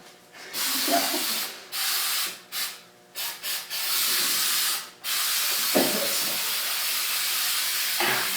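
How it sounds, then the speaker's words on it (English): Several bursts of aerosol spray polish hiss out onto quad bike plastics, short sputters first, then long steady sprays with brief pauses between, close and loud. "Spray polish."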